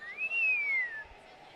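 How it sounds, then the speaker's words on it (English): A single long whistle at a youth swim meet, a clear rising then slowly falling tone held for about a second before cutting off. "1 long whistle."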